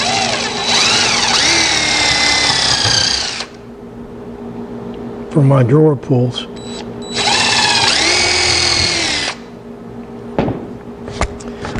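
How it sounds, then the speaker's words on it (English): A power drill whines loudly in two long bursts while drilling holes in oak, rising in pitch as it bites, with a voice speaking briefly between them and clicks afterward. "Now I can drill my holes"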